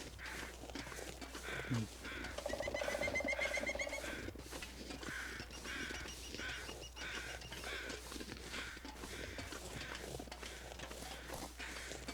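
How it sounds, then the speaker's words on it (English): Crows cawing in the wilderness survival video game The Long Dark, several harsh calls in the first few seconds followed by crunching footsteps and wind, with no talk. "there's those crows that I was talking about before"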